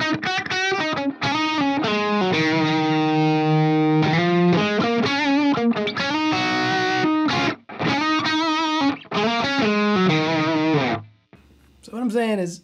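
Electric guitar run through an IK Multimedia ToneX pedal on a KTR patch with EQ, noise gate and compressor, playing loud, sustained distorted notes and chords in bursts with short gated pauses, close and upfront.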